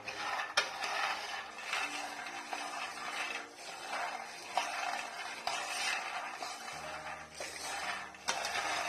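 Peanuts roasting dry in a pan are stirred steadily, giving a continuous scraping, rattling shuffle with faint sizzle, fairly close and with no talk.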